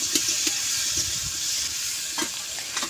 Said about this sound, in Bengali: পেঁয়াজ ভালো করে কুচিয়ে রাখা পেঁয়াজগুলোকে দিয়ে দেব।